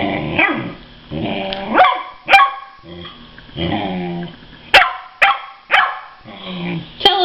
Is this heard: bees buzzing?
no